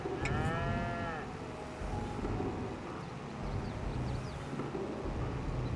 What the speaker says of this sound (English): We're feeding the cows.